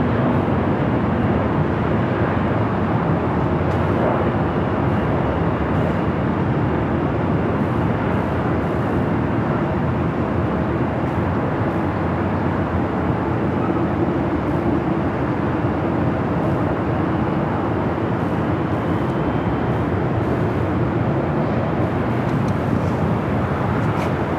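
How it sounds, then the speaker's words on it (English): Southwest Airlines Boeing 737-700 jet airliner at Los Angeles airport, a loud steady broadband jet roar holding for the whole stretch with no talk over it. "Southwest Airlines flight 1770, 737-700 heading to Phoenix"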